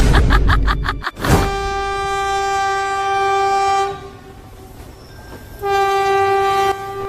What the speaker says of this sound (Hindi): अरे यार ट्रेन तो आ ही गई